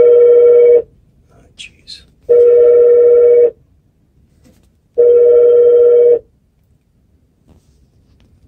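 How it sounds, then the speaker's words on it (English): An electronic phone rings three times in long, evenly spaced bursts, loud and close, with a brief muttered word between rings, beside radio programming equipment. "phone's ringing"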